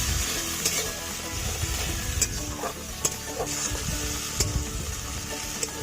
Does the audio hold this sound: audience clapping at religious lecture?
no